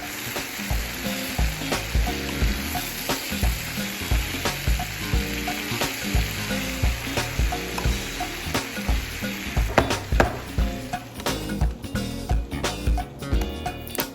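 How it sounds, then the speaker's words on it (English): Butter melting and browning in a pan while being stirred, a loud, steady sizzle with rhythmic scraping strokes of the utensil, close up. "let's go ahead and stir our main course. As that butter is getting nice and brown, it's melting down"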